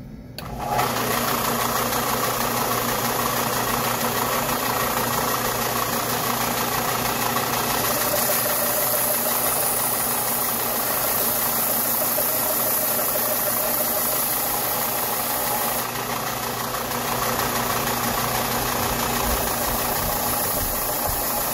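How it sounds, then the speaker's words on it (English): A sander smooths a wooden part for a lobster-pond yacht boat build, giving a loud, steady, close whirring roar that runs unbroken throughout. "Go clean it up on the sander."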